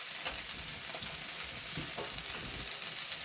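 Pork chops frying in olive oil for peppercorn gravy, a steady hissing sizzle with soft crackling pops, continuous and close with no talk.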